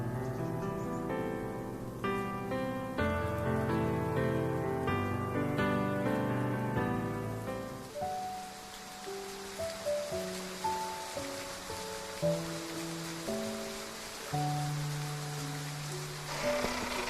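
Rain in a video game falls as a soft, steady hiss beneath gentle melodic music, with fuller music early on giving way to sparser notes as the rainfall continues.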